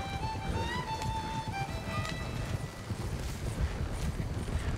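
Hooves of a horse-drawn carriage clip-clop steadily in Red Dead Redemption 2, a brisk rhythmic clatter with wheel rumble, while a brief tonal whistle-like call sounds early on.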